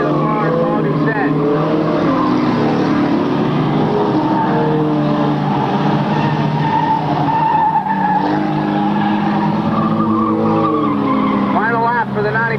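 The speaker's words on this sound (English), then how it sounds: "Final lap for the 95 of Eric Hoyt." Race cars roar continuously around the track at the RGS event in 1998, with engines droning loudly throughout while a race announcer talks over them.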